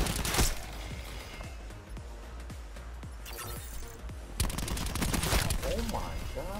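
Rapid, dense gunfire in Call of Duty: Black Ops 4 multiplayer, with sharp repeated shots and automatic bursts that grow heavier toward the end, mixed with game effects and a voice talking over it.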